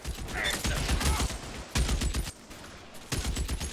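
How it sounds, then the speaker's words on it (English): BAR rifles fire in the video game L.A. Noire, with sustained bursts of automatic gunfire in heavy volleys, pausing briefly before resuming, loud and close. "Who the hell's shooting the BARs?"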